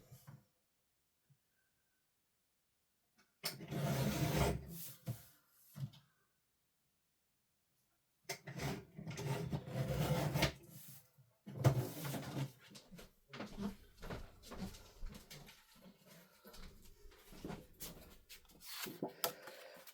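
Scissors or a trimmer cut through a craft card panel at a tabletop crafting session, giving bursts of dry scraping and snipping with soft rustles, fairly close and moderately quiet, separated by short pauses.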